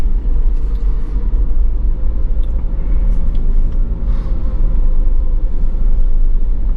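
A car drives along Pierson Park Road south of Estes Park, heard from inside as a loud, steady low engine and road rumble with no speech.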